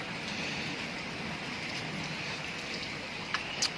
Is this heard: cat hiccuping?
no